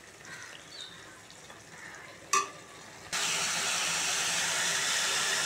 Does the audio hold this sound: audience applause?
no